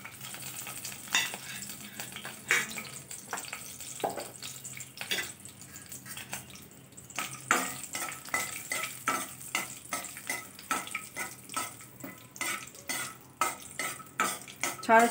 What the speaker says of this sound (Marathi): यामध्ये शेंगदाणे तळून घेऊया। आपल्याला कुडकुडी पाहिजेत खायला, त्यामुळे शेंगदाणे तळून घ्यायचे।